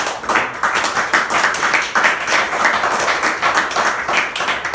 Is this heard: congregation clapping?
yes